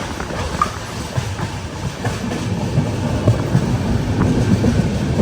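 An AC Express train pulls into Vapi railway station in Gujarat, heard from inside the coach as a steady rumble with rhythmic clickety-clack of wheels over rail joints.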